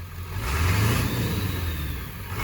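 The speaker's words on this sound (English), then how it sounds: "We'll see how she sounds with some throttle action in between tunes here." A Ford 7.3 Powerstroke diesel on its stock tune revs up from idle, the low engine roar swelling loud and close, holding briefly at higher rpm, then easing back, with no talking.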